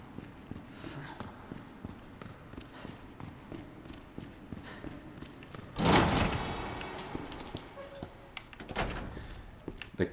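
Heavy door opening in Resident Evil 2, a sudden loud creaking thud midway followed by a lingering rumble, with quiet footsteps before it and a softer knock near the end.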